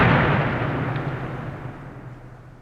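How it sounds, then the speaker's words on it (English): An explosion sound effect for a French battleship blowing up at the Battle of Trafalgar, a heavy booming blast that rolls and slowly fades away. "the end of the battle was marked with a shattering explosion as the French battleship"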